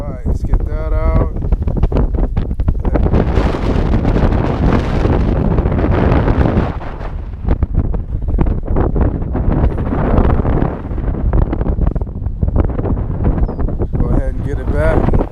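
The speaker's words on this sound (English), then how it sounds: "a lot of wind" Strong wind buffets the microphone while bass fishing on a windy day, giving a loud, continuous rumbling roar that swells and gusts throughout, with a voice briefly heard over it.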